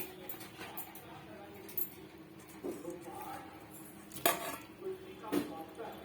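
Hilsa fish pieces go into a pot of simmering curry with eggplant, bringing metallic clinks and clatter of a utensil against the pot, with a couple of sharper knocks near the end.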